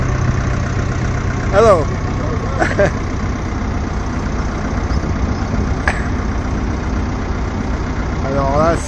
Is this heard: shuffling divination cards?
no